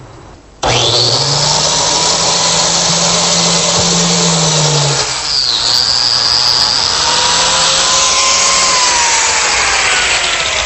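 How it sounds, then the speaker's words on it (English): A biscuit joiner cutting slots in wood for a toy chest, its motor starting abruptly and running loud and steady with a high whine, the pitch dipping briefly mid-cut before recovering. "Using my biscuit joiner,"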